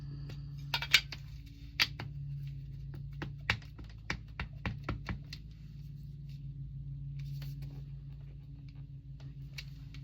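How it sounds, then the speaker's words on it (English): Rubber journaling stamp pressed onto paper in a series of sharp taps, about a dozen quick knocks clustered over a few seconds, close and crisp over a low steady hum, with no talking. "So I'm going to stamp this up here."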